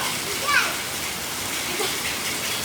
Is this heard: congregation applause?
no